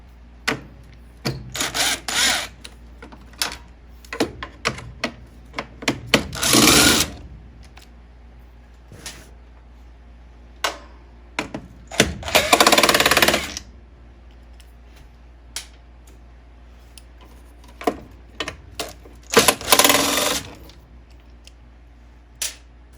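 A furnace inducer motor being freed by backing out its three 5/16 screws: irregular close scraping and rattling bursts, with a few longer grinding stretches and tool clicks between them.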